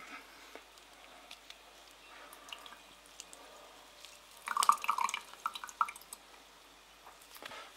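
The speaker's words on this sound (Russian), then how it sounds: "И сейчас выжимаем вот сюда вот," A cut lemon squeezed by hand into sugar water for homemade lemonade, giving faint, close wet drips and squishes clustered in a brief burst midway through an otherwise quiet stretch, with no talking.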